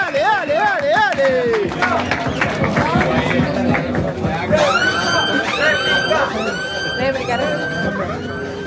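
An audience at a freestyle rap battle applauds loudly, with sharp whistles and crowd cheering running through the clapping from start to finish.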